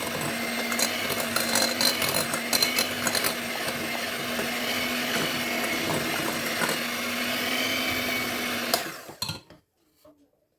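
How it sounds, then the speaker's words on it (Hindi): A mixer whirs steadily as it blends cake batter with coconut essence, with some clattering along the way, then shuts off near the end, leaving silence. "अब हम एक बार फिर से हल्का सा इसे मिक्स करेंगे"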